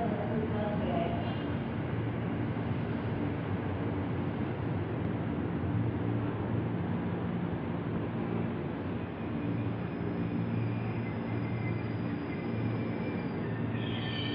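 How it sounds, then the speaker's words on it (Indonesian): A KRL commuter train bound for Jakarta Kota rumbles past nearby as a steady, loud roar of wheels and rail noise throughout. "Nah, ini ada kereta nih, KRL Jakarta Kota."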